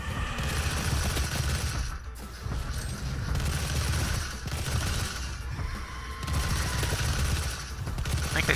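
Gunfire from the Doom SnapMap shooter game, Big Game Hunt map: bursts of rapid automatic fire with booming impacts, in dense loud clusters separated by short pauses, with no talking.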